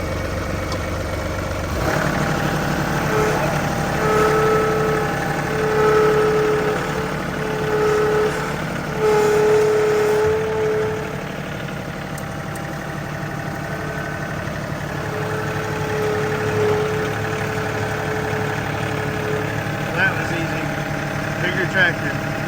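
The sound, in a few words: tractor engine running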